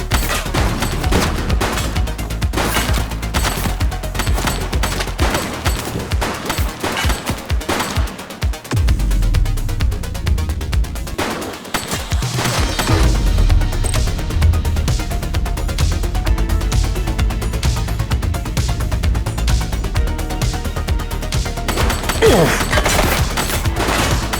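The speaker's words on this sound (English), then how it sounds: "He's running. He's shooting!" Sustained automatic gunfire from a fleeing suspect in the police game The Precinct, with dense rapid bursts that carry on for nearly the whole stretch, a couple of heavy low booms around the middle, and no talking.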